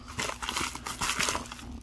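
Twenty small plastic bags holding DC Comics Aquaman silver bullion coins being torn open and handled, a busy close-up crinkling and rustling that runs throughout with no voices.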